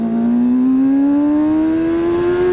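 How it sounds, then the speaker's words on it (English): A motorcycle engine revs in one long, smooth climb, its whining pitch rising steadily and loudly for a few seconds with no other sounds. "the sound that this engine makes is like a bald eagle being born"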